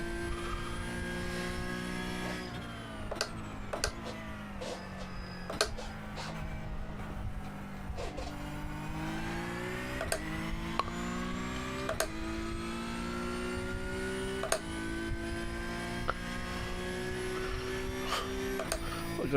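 Formula Vee race car in the iRacing simulator, a loud buzzing engine note that rises and falls through gear changes, with repeated sharp shifts and revs across a lap and no talk.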